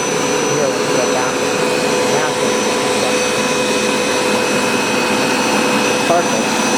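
A Hoover SmartWash automatic carpet cleaner runs continuously with a loud steady motor whine and suction roar, close and unchanging throughout.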